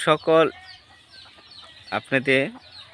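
Fayoumi chickens on a poultry farm built over a pond let out several loud, close clucking calls in short bursts, with quieter farm background between them.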